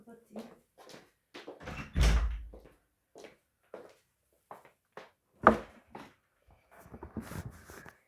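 Nearby footsteps and rustling lead to a heavy thud, then a sharp latch-like clack as a door is shut, followed by more light shuffling in a quiet room.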